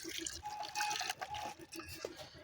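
Water poured into a dog's bowl, a short close trickle and splash with uneven dribbling, faint and alone with no talking.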